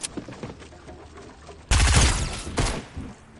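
Shotgun blasts from Fortnite gameplay: a few soft pops at first, then one loud, heavy burst of fire that rings out and decays, followed by a smaller second report.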